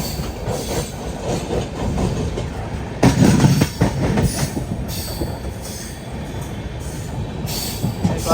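A Humsafar Express train running along the railway track, a loud continuous rumble with rhythmic wheel clatter, heavier bursts around three seconds, and faint squeals riding on top.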